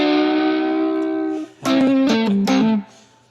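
Electric guitar run through a big 1980s-style distortion effect: a long sustained, buzzing note rings for about a second and a half, then a few loud, chopped distorted chords, with no one talking.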